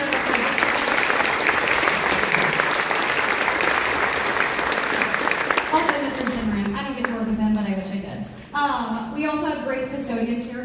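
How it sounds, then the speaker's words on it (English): Audience applause fills the hall after a Denver school band concert for grades 5 to 12, a dense and steady clapping that thins out and fades as a voice begins talking over it. "So, big round of applause for them."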